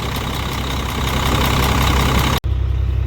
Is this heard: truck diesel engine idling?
yes